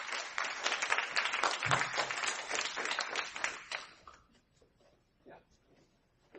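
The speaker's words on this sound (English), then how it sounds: "Let's give them a round of applause, please." An audience at a 2013 Hot Topics event applauds a named group of young men and women, dense clapping for about four seconds, then thinning to scattered claps and quiet room noise.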